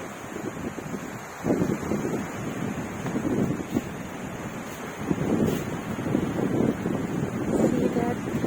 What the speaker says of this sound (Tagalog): And the wave. It's so nice, the wave.